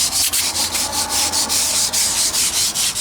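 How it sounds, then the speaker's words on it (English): A small wire brush scrubs loose material off a concrete foundation in quick, rhythmic back-and-forth strokes, loud and close, about a dozen harsh scratchy passes with no talking. "Wire brush everything right off of it."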